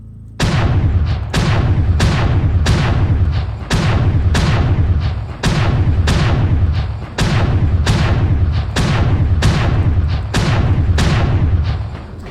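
An Inner Sphere autocannon fires in MechWarrior Online, a loud, regular series of heavy booming shots, each a sharp blast with a short rumbling tail, repeating roughly every second.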